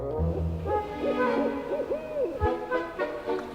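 An owl at an owl sanctuary for sick and injured wild owls gives a run of repeated hoots, close and steady, over a low background hum.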